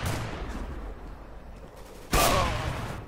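Gunfire in the video game CS:GO: a loud burst of shots cuts in near the end over a rough, noisy game background, with no talk.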